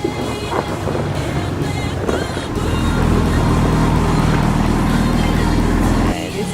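A small motorized dinghy drones steadily over choppy water, with wind buffeting the microphone and hull slaps throughout.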